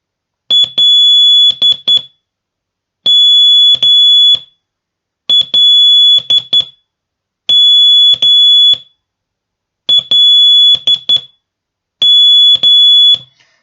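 Loud, high-pitched electronic beeps in short and long tones, grouped in six evenly spaced bursts separated by silent pauses: the Morse code letters L and M keyed at slow speed.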